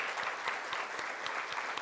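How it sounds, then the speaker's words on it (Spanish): Congregation applause at a church service, steady moderate clapping from many people in a hall, even and unbroken. "¿Le puede dar un aplauso al Señor?"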